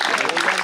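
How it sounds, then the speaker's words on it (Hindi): An audience applauds a Rotary Club president at a cricket association for the blind event, a steady wash of many hands clapping with a voice speaking over it. "जोरदार तालियां इनके लिए"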